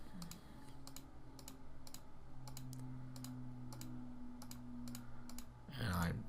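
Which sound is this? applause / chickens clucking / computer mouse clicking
computer mouse clicking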